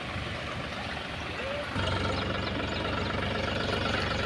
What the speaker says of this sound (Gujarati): ટ્રેક્ટર આગળ નહીં ગયું આગળ ફૂલ પાણી ભરાઈ ગયું પાછું કાઢી પાછું રોડમાં